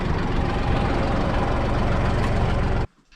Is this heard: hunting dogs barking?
no